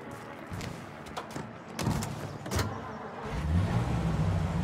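A 1930s-style car drives through city streets in Mafia Definitive Edition, its engine rumbling steadily at moderate volume and building near the end, with a few clicks and knocks over the hum.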